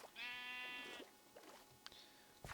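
A sheep in a video game gives one drawn-out, wavering bleat, faint and close, followed by a few small clicks and soft knocks.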